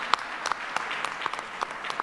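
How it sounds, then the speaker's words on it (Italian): Audience at the BIT tourism exhibition in Milan applauding a minister, light scattered clapping that stays thin and fairly distant, with a few sharper claps standing out over the hall's background noise. "fate pure un applauso al Ministro Garavaglia."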